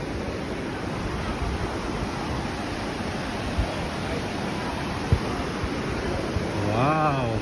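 A waterfall in a natural park in the USA, a steady broad rush of falling water throughout, with a brief voice near the end.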